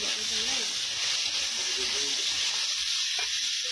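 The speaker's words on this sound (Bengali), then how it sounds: "ডাঁটাগুলো একসঙ্গেই ভেজে নেওয়া হচ্ছে" Vegetable stems fry in oil with turmeric and salt, a steady close sizzling hiss that continues throughout, with faint vocal sounds underneath.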